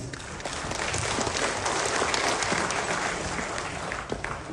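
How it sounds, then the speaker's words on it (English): Sustained applause from a large audience at a public association gathering, dense and steady clapping filling the whole stretch without a break. "So, give me a big round of applause, please."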